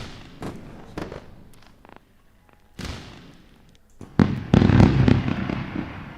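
A fireworks sound effect plays on a live day-trading stream: scattered crackling bursts and pops build into a dense, loud barrage of booms and crackle near the end.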